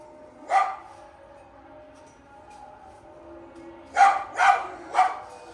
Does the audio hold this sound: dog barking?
yes